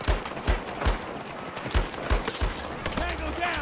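Gunfire in Battlefield 2042 arrives as sharp repeated shots at an uneven rhythm, loud and close, mixed with other game noise.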